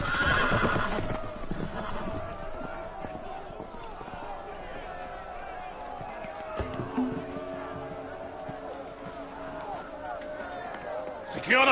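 Horses whinny and neigh as they run loose in a Game of Thrones battle scene, with clip-clopping hooves under shouting and raised voices throughout, louder bursts at the start and end.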